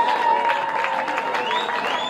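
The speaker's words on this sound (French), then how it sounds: "Est-ce qu'on peut applaudir très fort pour eux," Wedding guests applauding steadily after a request to cheer for the couple, a dense wash of clapping with a faint crowd murmur underneath and no speech.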